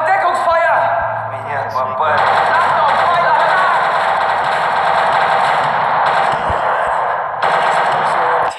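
Rapid machine-gun and rifle fire in a World War II video game, loud and continuous under a player's excited talk.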